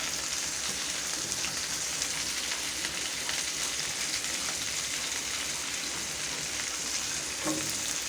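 Tomato sizzles in a pan alongside cooked shrimp, giving a steady, loud, crackling fry that stays even throughout with no pauses.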